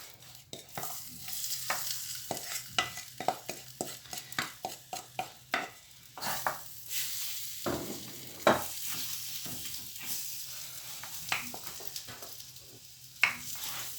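Lamb marinated in oil with tagine spices, cumin and salt frying in a pot, a soft sizzle under repeated sharp clacks and scrapes of a spoon stirring, close and without talk.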